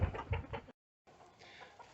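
A hen and a rooster cluck in quiet, close bursts, broken by a brief gap of silence.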